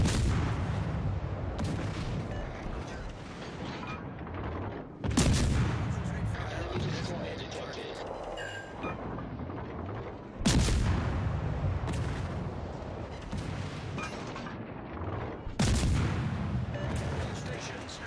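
Heavy naval guns boom in a ship combat video game, four big broadside blasts spaced about five seconds apart, each followed by a long rumbling tail, with faint talk underneath.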